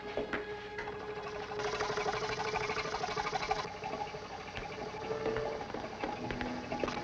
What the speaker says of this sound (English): Start the exhaust pump.